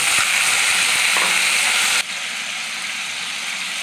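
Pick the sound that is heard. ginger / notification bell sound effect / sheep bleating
ginger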